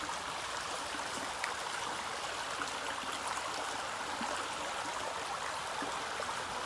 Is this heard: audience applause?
no